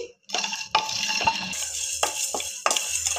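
Whole biryani spices, peppercorns and coriander seeds roast dry in a pan. A spoon scrapes and stirs in short strokes over a faint sizzle, and metal clinks sound close by. No voices.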